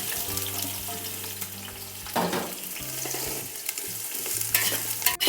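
About 200 grams of onions for a vegetable biryani sizzle steadily in a pan while a utensil stirs and scrapes them in repeated strokes, close and fairly clear, with a soft hum underneath.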